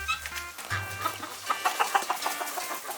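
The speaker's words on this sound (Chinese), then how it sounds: "现在鸡看到我就跑了" Chickens inside a rural backyard coop cluck and squawk nervously as someone enters. Scattered calls rise and fall nearby, with rustling and movement and no speech.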